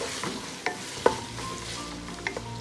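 Cluster beans (gawar phali) stir-fried with golden garlic tempering in a pan, with a few sharp spatula scrapes and clinks over a soft, steady sizzle.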